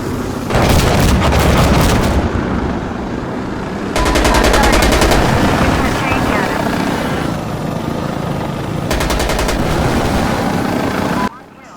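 Gunship in the video game Insurgency Sandstorm firing guns and rockets, with long loud stretches of rapid automatic fire and booming blasts under a helicopter drone, while a voice talks over it.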